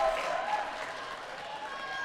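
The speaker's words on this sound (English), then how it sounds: "Bit of a clap there for the Tower boy" Crowd clapping at the Australian Handball Championships men's final, Queensland versus Victoria, a steady wash of applause filling the hall throughout under a commentator's voice.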